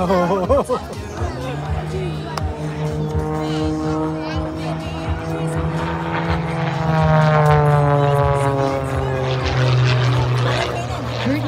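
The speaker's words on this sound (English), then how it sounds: "I audibly gasped when I saw the airplane flip over and just look like it was falling." A propeller airplane performing at an air show, its engine holding a steady droning tone that swells and shifts in pitch as it maneuvers, loud and sustained over faint crowd chatter.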